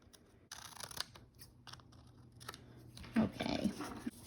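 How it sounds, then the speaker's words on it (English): Scissors trimming around the top edge of a glued paper piece on a junk-journal craft bag, giving quiet, intermittent snips and crisp paper rustles close by, with no talking. "I'm just going to cut around the top of this"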